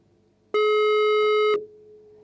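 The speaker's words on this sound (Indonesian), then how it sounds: "Iya, teleponnya berdering." A single loud, steady electronic telephone tone sounds for about a second on a radio broadcast line, cutting in sharply and stopping abruptly against quiet background hum.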